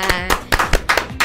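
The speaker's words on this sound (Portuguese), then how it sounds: "Uma salva de palmas, produção, para Jéssica!" A handful of sharp hand claps, five or six in a quick uneven run, close and loud, set up as applause for a guest on a podcast set.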